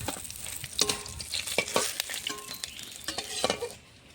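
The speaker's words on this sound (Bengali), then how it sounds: "বাকি মাছগুলো ভেজে নেব।" Pieces of fish fry in a pan of hot oil as a spatula turns them. Bright crackling sizzle mixes with sharp scraping clicks, close and continuous, then fades out at the end.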